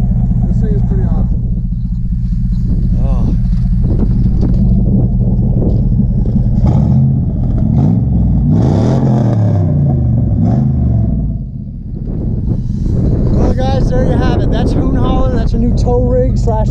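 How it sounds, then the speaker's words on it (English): Tow rig adventure vehicle driving off-road, its engine rumbling loud and close with rising revs and rough bumps, while people talk over it. "Tow rig / adventure vehicle."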